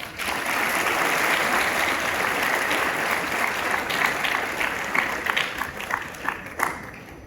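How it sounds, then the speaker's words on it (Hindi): Audience applause at a talk, steady sustained clapping from a crowd that thins toward the end into scattered individual claps. "उस बच्चे की शहादत के लिए एक बार जोरदार तालियां बजाएं।"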